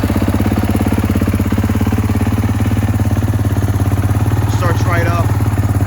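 A wrecked 2019 Kawasaki KX450 dirt bike being rebuilt idles close by with a steady, even, pulsing rumble, while someone speaks briefly over it near the end.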